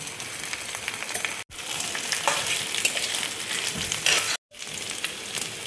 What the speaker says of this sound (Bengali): এবার আমি আলুটা দেখো দিয়ে দিচ্ছি।